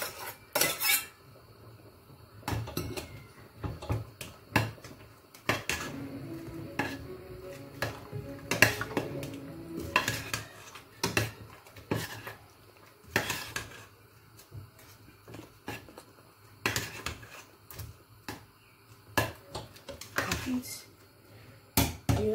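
A metal spoon scraping and clattering against a pot while okra is stirred into ogbolo soup cooked with palm oil, irregular bursts of knocks and scrapes with quiet pauses between them.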